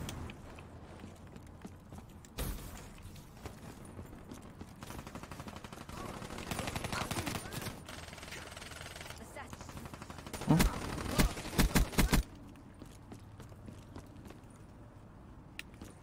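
Gunfire in Call of Duty: Black Ops 3 during a multiplayer match: one early shot, then a rapid cluster of sharp bursts near the end, all over a quiet game backdrop.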